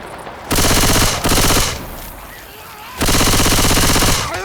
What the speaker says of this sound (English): Yeah, whatever, it's a machine gun.